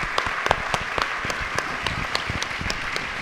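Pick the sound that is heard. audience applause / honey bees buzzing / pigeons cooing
audience applause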